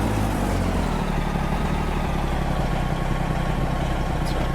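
A truck engine idles in American Truck Simulator, a low, steady rumble that holds even and unbroken throughout, with no talking.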